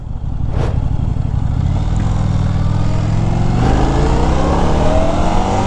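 A 2025 Indian Scout 101 motorcycle with a 1250 V-twin engine accelerates on a test ride, its loud, close exhaust drone climbing steadily in pitch under a roll-on of the throttle, with wind rush throughout.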